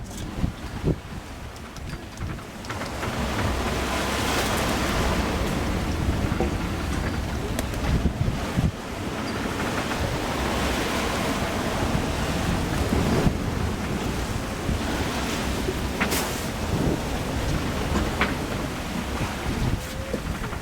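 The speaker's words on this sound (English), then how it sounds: "The winds have come down to 20 knots, but the seas are lumpy from all the wind we had before." Strong wind roars around a Swan 48 sailboat offshore, with lumpy seas left after a squall. Constant loud gusting and microphone buffeting mix with the rush and slap of waves against the hull throughout.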